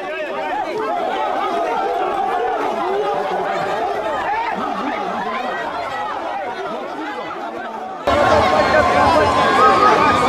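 A street crowd in Bangui chatters and calls out in a dense, continuous babble, with scattered laughter and a louder, harsher surge of shouting near the end.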